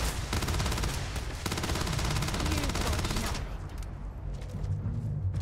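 Rapid bursts of sci-fi gunfire in Starfield, dense automatic shots crackling loudly for about three seconds, then cutting off to quieter rumbling and scattered sounds, with faint voices underneath.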